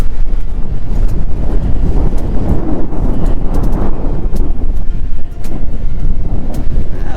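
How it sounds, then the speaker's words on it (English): Loud, steady wind buffets the microphone at the La Conner Thousand Trails campground near the shore, a continuous roar that drowns out everything else, with no talking. "Wind's picking up."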